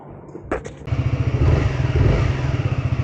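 A Honda ADV 350 scooter engine starts up after a few short clicks and idles loudly with a rapid, steady putter, close by, just after an oil change.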